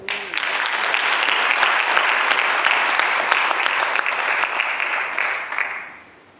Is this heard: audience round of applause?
yes